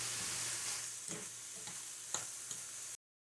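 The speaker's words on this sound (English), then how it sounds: "I'll throw it all in the pan, turn on the heat, and just wait." Keto cheese steak filling sizzles steadily in a hot pan for about three seconds, a continuous close frying hiss with a few soft stirring knocks, then cuts off to silence.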